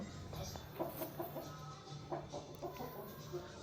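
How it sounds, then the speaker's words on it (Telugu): A Kakite eye flyer fighting rooster clucks in short, repeated bursts in an uneven rhythm, fairly quiet and close, over light background noise. "వీడియోలో కనిపిస్తున్న కాకిటే ఐ ఫ్లయర్ పుంజు"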